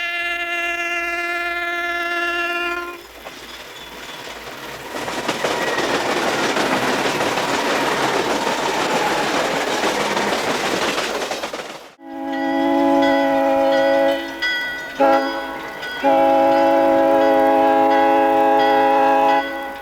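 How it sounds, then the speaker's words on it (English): A New York, Susquehanna & Western westbound diesel freight train led by C-430 locomotives rumbles past close by, with a steady roar of engines and rolling cars, and horn-like tones sounding before and after the passage. "with a westbound haulage train. C-430s are in charge."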